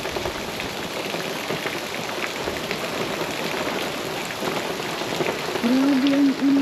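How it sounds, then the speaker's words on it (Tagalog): Heavy rain pours steadily through a New Zealand forest, a dense continuous hiss of drops on leaves and ground; a voice hums briefly near the end. "Grabe ang ulan."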